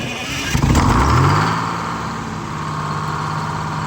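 A Detroit Diesel 671 engine runs just after a fit of new injectors, the fault having been an erratic idle. It gives a louder surge of revving, then settles into a steady, close, droning idle with no voices.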